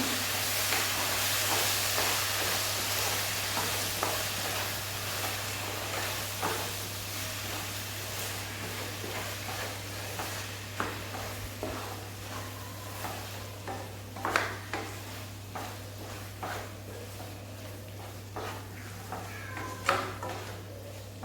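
Chilli chicken being stirred in a pan, producing a soft ongoing sizzle with scattered scraping and clicking taps of the spatula, fairly quiet over a steady low hum, with a cat meowing faintly at times.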